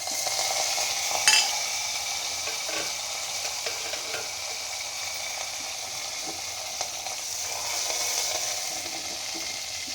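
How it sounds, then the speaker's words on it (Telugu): Cumin, mustard seeds, small onions and curry leaves sizzle in hot oil for a dal curry, a steady close hiss of frying with faint stirring clatter throughout and no voices. "నూనె కాగిందండి, జీలకర్ర వేసుకుందాం, కొంచెం ఆవాలు వేసుకుందాం, చిన్నులపాయలు వేసుకుందాం, కరివేపాకు,"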